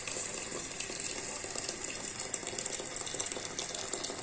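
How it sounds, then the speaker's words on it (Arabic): Water pouring into a cooking pot of rice being prepared alongside tilapia fish, a steady close splashing gush with a faint sizzling hiss beneath, continuous and alone without talk. "هنحط ميه"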